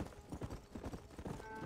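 Horse hooves clip-clop in the video game Red Dead Redemption, a quick, faint, regular patter of soft hoof strikes.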